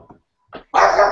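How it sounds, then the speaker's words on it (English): A dog gives a couple of short yips and then a loud, sustained bark close to the microphone, with brief silences between the sounds. "you gotta love dogs"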